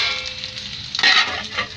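Potatoes frying in hot oil in a pan, a steady soft sizzle that swells louder and busier for a moment midway, then settles back to a close, even crackle with no voices.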